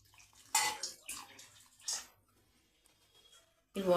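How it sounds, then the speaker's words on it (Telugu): Water is poured into a pan of paneer cashew masala gravy in a few short splashing bursts separated by quiet gaps, close and fairly soft. "కొంచెం వాటర్ పోద్దాం"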